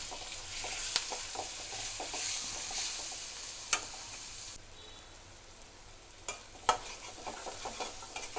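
Ground spices with ginger paste fry in a pan with a soft, steady sizzle, while a spoon stirs and scrapes in irregular clinks at close range.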